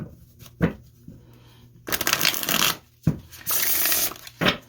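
Tarot cards are shuffled by hand at close range in several separate bursts of crisp riffling and rubbing, with short quiet gaps between them and no voices.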